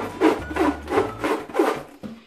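Latex modelling balloons being twisted and tied into a snowman figure, a run of about five squeaky rubbing twists in steady rhythm, close and fairly loud, with no talk.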